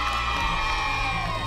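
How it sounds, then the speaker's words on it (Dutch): A TV game show studio audience cheers and shouts as a team is introduced, a loud, continuous wash of crowd noise with excited voices throughout. "Een applaus voor Celeste en Brik, de strijders."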